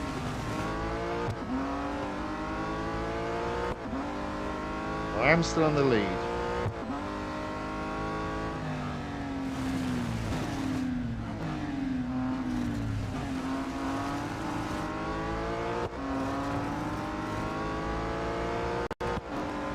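A race car in the mobile game Real Racing 3 roars continuously through repeated gear changes and revving, with a brief tire squeal midway, while someone comments briefly over the engine.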